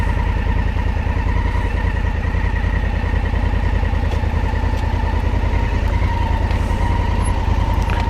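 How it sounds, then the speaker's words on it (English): A Honda Africa Twin motorcycle engine runs steadily close up, a loud continuous low throb while the bike is eased into a parking spot by the seaside, with no talk. "we're just going to try and slot my bike in somewhere"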